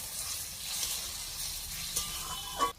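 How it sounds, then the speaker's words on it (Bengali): Boiled vegetables for shukto being sautéed in a pan, a soft continuous sizzle and hiss with faint scraping touches and a brief sharper clink near the end. "এইবার এইটাকে এর মধ্যে ভালো করে একটু কষিয়ে নেব"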